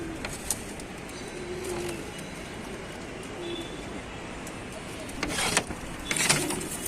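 Pigeons coo softly in a loft in Tanta, with low repeated coos under a quiet room hum and a few clicks and rustles toward the end.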